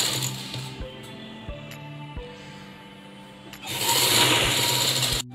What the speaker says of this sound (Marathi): पण ही टिप मारून घेतली आहे फोल्ड करायला बाहीला